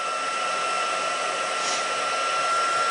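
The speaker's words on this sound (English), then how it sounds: "taking your heat tool and heat embossing it" A handheld heat tool blows hot air onto card for rainbow heat embossing, a steady close whooshing hiss like a hair dryer that runs unbroken and alone for the whole stretch.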